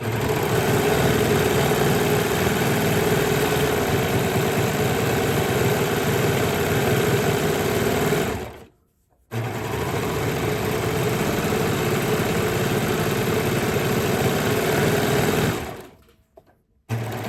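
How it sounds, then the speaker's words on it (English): A serger stitches and trims a fabric edge with a loud, fast, steady mechanical whir, running in two long bursts separated by brief stops. "the good thing about a serger is it cuts off all the excess"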